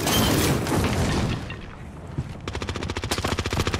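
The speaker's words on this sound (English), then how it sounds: "Enemy is firing at us" Video game gunfire at close range: a burst of heavy shots rolls into a boom, then a rapid, evenly spaced machine-gun stream rattles loudly to the end, with no talking.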